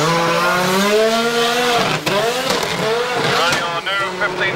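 A 1977 Renault RS01 Formula One car with a 1500cc turbocharged V6 screams past close by, its loud engine tone rising and then sweeping down as it passes, with no one speaking.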